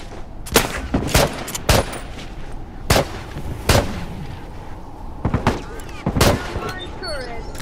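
Rifle gunfire in The Last of Us, with around ten sharp loud shots in irregular bursts, some echoing, mixed with occasional shouting voices.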